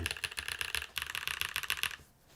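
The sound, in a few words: typing on a newly built mechanical keyboard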